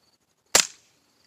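A single 22 Short round fired from a Rossi .22LR gallery rifle, one sharp close crack that decays quickly, with near silence before and after.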